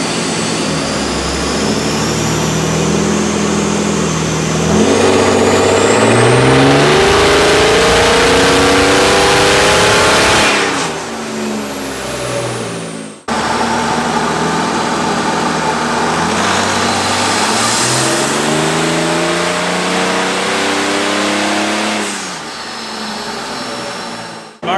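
A turbo diesel Mercedes, tuned to about 313 wheel horsepower, roars on a dyno in two long loud pulls, the engine note climbing steadily with turbo rush before dropping away, close and alone.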